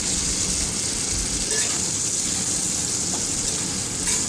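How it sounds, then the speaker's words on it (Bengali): Potatoes being stir-fried with a fish head and spices in a pan give a steady, dense sizzle throughout, with occasional stirring scrapes and no talk. "আলুগুলো দিয়েও বেশ ভালো করে মাথা আর মশলার সঙ্গে কষিয়ে নিলাম"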